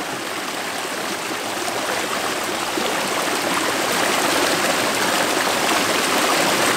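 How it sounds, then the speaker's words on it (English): A fresh mountain river in Bali rushes close by in a loud, unbroken wash of flowing water that holds steady throughout with no voices over it. "This mountain river is so fresh,"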